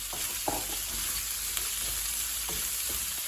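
Chopped onions with a little salt frying in a pan for a Jaffna chicken curry, giving a steady soft sizzle with occasional faint stirring knocks, close and continuous.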